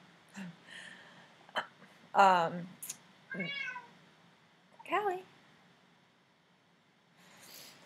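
A cat meows several times in short, rising calls spread across the clip, fairly close, with quiet room noise between them.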